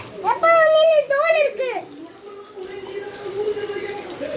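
Someone shouts in a home kitchen during cooking, with two loud, rising-and-falling cries followed by a softer, drawn-out call, over background clatter and running water.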